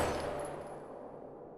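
A gunshot in the Life is Strange video game, a loud burst at the start that decays into a fading, echoing tail as everything drops toward quiet.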